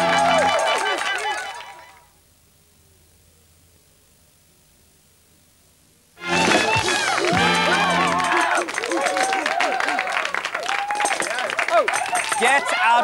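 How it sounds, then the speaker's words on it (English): Studio audience applause on a British TV talk show, loud dense clapping that fades out, falls silent for several seconds, then bursts back in with chatter and voices mixed in. "And a round of applause from the audience."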